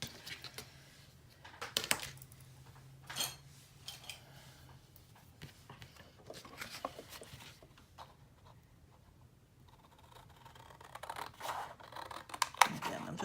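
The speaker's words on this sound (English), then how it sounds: "I'm just going to make a 1/2 inch mark and cut that off with my scissors." Scissors snip through paper for a mini album in a few scattered crisp cuts and rustles, close and quiet, with handling noises between them.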